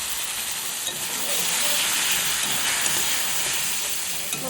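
Spice masala being sautéed in a pan, giving a steady, loud, close hiss and sizzle that swells slightly partway through, with faint scraping and no clear talking.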